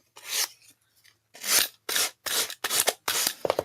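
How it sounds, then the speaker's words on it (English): Higher-grit sandpaper scrapes a thick-paper clipboard in a string of short, rough, close rasping strokes with brief pauses between them. "Let me use my my higher grit sandpaper,"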